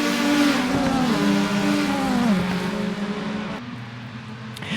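A race car in a racing video game at the Norisring attempting an overtake, its engine droning loud and close with pitch sweeping up and down through shifts, easing slightly toward the end.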